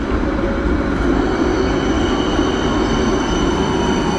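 A train rumbles past up close in Helsinki, Finland, loud and continuous, with a low roar and a faint metallic whine above it.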